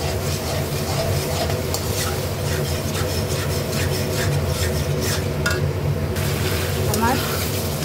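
Spice paste with yogurt is stirred and fried in a pan for Dhokar Dalna, a continuous scraping and sizzling close up as the spoon works the mixture, with a voice talking over it.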